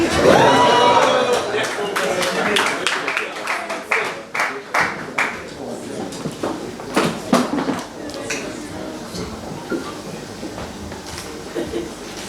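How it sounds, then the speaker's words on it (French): An audience at a certificate ceremony for the end of a training course claps, with irregular bursts of applause following a brief spoken line and thinning into scattered claps. "Est-ce qu'on va applaudir encore, s'il vous plaît?"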